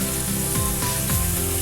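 Onions fry in butter for mushroom risotto while being stirred, a continuous close sizzle with soft tonal music underneath.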